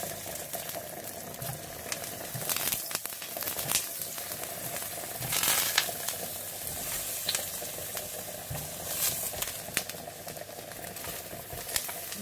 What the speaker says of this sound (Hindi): और इसी तरह से आप सारे बैंगन फ्राई कर लें।